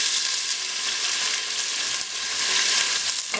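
Onions hit hot oil already spluttering with cumin and nigella seeds, giving a loud, steady, close-up sizzle that holds evenly throughout with a brief dip in the middle.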